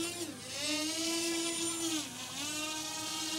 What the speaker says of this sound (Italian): proviamo ad armare i motori